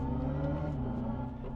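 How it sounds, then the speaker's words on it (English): Synthetic exhaust note from a 2025 Hyundai IONIQ 5 N electric car in evolution mode, a fairly quiet, whiny engine-like hum with slight rises in pitch. "I can change my exhaust notes. So like I have ignition on right now, but I can change it to evolution"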